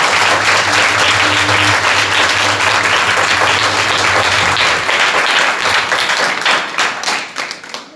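Church congregation at a Sunday service applauding loudly, a dense, sustained wash of many hands clapping with a low hum beneath, fading toward the end.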